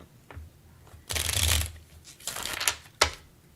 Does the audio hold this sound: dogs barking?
no